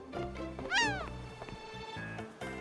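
A single drawn-out cat meow from the video game Atelier Totori rises and falls over a steady backdrop of music with harmonic tones, fairly loud and close.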